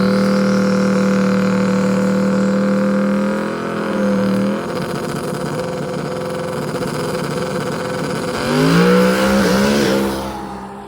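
A drag race car roars down the track, a loud sustained engine drone with a strong low tone that shifts pitch partway through, then surges again before fading near the end.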